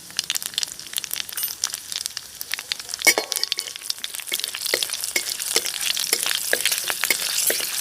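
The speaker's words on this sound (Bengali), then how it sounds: "ফোড়নটা খুব ভালোভাবে ফুটে উঠেছে" Black cumin and four slit chilies tempering in hot oil for a bhola fish curry. Close, steady sizzle is broken by frequent sharp crackles and pops that build toward the end, with no voices.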